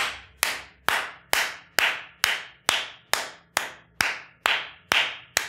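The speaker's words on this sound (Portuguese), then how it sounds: "Uma salva de palmas para esse emocionado." Slow, evenly spaced single claps, about a dozen sharp strikes, each close and loud and ringing out briefly before the next, with no voices, offered as a mock round of applause during a live stream.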